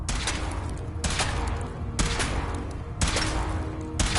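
Gunfire sounds in Fallout 4 during a power armor suit test, heavy bursts of automatic fire roughly once a second, loud and close, with no talk over them.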